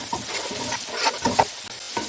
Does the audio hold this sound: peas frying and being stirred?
yes